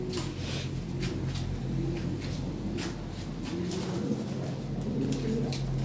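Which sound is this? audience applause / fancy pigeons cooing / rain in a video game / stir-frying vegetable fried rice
fancy pigeons cooing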